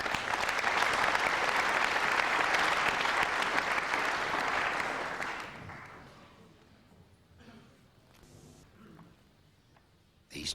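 Snooker audience at the 1991 Rothmans Grand Prix final applauds a safety shot with loud, sustained clapping that fades away after about five seconds, leaving quiet hall ambience and a few faint thumps.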